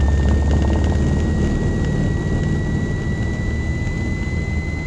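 A small piston airplane engine runs at full takeoff power, a loud, steady, continuous drone with no speech over it.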